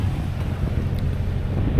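Strong wind at Dareen beach in Jubail, Saudi Arabia, buffeting the microphone with a heavy low rumble over rough sea, loud and unbroken.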